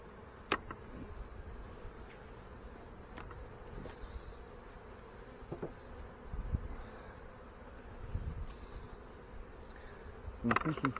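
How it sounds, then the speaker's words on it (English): Honey bees buzzing inside an open hive box during an inspection, a steady low drone throughout with occasional louder passes of individual bees close by, plus a few brief knocks from handling the frames. "Lots of bees, lots of bees."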